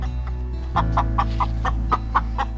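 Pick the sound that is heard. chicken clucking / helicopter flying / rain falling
chicken clucking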